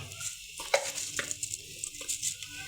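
Chopped garlic and cumin seeds sizzle in hot oil for a moong dal tadka, a soft steady frying hiss with light stirring taps and spatter, close and quiet.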